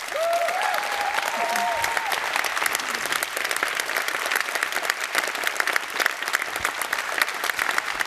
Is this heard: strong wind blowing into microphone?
no